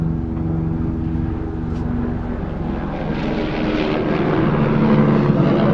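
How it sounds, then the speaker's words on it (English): A helicopter's engine and rotors drone loudly overhead, a steady rumbling throb that grows slightly stronger. "we got a chopper up ahead here above us"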